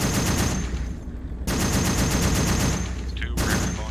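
A mounted machine gun in ArmA 3, set in the Vietnam War, fires in long rapid bursts of loud, close automatic shots, broken by brief pauses between strings.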